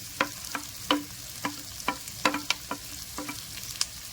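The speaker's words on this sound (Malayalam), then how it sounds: "ഇതൊന്ന് വഴറ്റിയെടുക്കണം." Onion, capsicum, green peas and carrot sauté in a pan with a continuous light sizzle, punctuated by a dozen sharp scraping taps of a spatula stirring at an uneven rhythm, close and with no talking.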